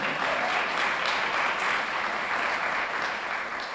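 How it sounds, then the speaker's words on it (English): Morning ceremony audience breaks into steady applause, a dense, even wash of clapping hands that holds at constant loudness for a few seconds. "Can we give her another round of applause for that introduction?"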